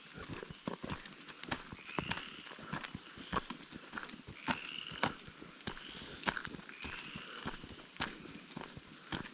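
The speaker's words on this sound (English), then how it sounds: "I'll let you listen to the frogs." Frogs croaking along a forest trail in Capital State Forest near dusk, a chorus of repeated sharp croaks and clicks mixed with faint chirps, steady and moderately close with no talking.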